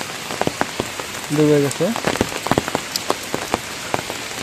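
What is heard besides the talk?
rain falling on flooded fields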